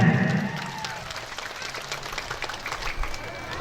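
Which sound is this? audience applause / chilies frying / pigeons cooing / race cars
audience applause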